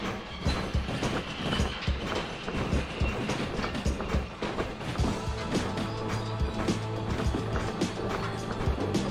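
Train wagons roll along rails in the Derail Valley video game during a shunting job with excavators loaded on the cars, making a steady loud rumble with rhythmic clickety-clack wheel clatter and mechanical creaks throughout.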